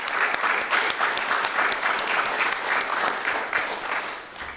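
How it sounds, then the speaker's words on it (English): Audience applause at a panel discussion event: steady, dense clapping from a crowd sustained at full strength for several seconds, with no voices over it. "I want to give them a quick round of applause"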